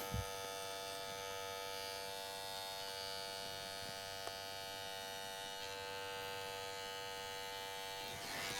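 Electric hair clippers shaving straight hair along a diagonal outline during a short men's clipper cut; a continuous close buzzing hum lasts the whole stretch, with no talking.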